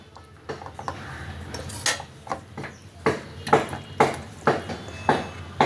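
Metal pot being handled and lifted off a gas stove after ghee is stirred into a squash curry (dalna), with repeated close clanks and scrapes of metal on metal at a steady, uneven rhythm.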